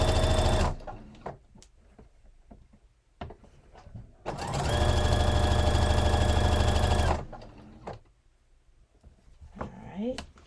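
Sewing machine stitching a thrifted scarf, a lighter job than its usual denim, running in a steady loud burst of several seconds between shorter starts, with some talk around it.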